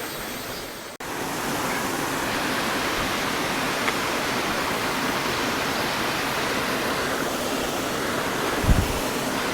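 A mountain stream runs through a rocky valley in Korea, a steady broadband rush that holds evenly and close throughout, with one brief thump near the end and no voices.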